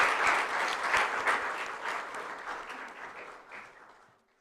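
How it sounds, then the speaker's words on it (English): A crowd at a Gita Jayanti celebration applauds children after their chanting, steady clapping that is full at first and then gradually thins and fades out. "Can we have one more round of applause for these beautiful kids?"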